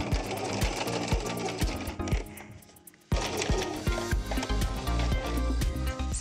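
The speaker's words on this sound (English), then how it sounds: "fold that over to turn that corner and sew all the way up to the end." A sewing machine stitching a vinyl lunch bag runs steadily with a fast mechanical chatter, close and loud, briefly slowing and quieting before surging back to full speed.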